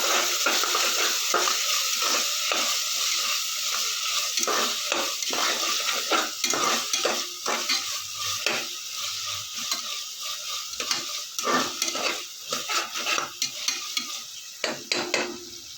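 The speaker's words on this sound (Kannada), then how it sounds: "ಟೊಮೆಟೊ ಹಾಕಿ ನೀಟಾಗಿ ಫ್ರೈ ಮಾಡ್ಕೋಬೇಕು" Tomato sizzles steadily in hot oil in a pan for bitter gourd palya, while a spatula clatters and scrapes repeatedly through the frying.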